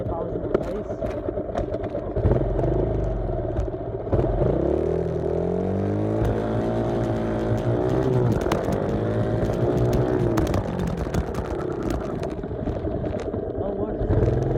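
A dirt bike engine revs hard for a race-style takeoff, pitch sweeping up and down over a loud, continuous drone, heard up close with a voice talking over it.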